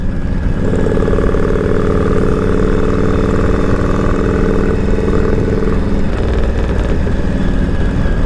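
A Harley-Davidson Panhead motorcycle engine idles steadily with a low, continuous rumble, close and loud throughout.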